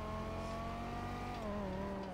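In Grand Theft Auto V, a supercar engine drones steadily at a strong, sustained pitch that dips slightly near the end, with the road noise continuous and no voices.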